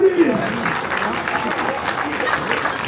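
The Loir-et-Cher crowd at a stage of the TLC 2025 cycling race, Montlivault to Mont Près Chambord, applauds with steady clapping while an announcer talks over it.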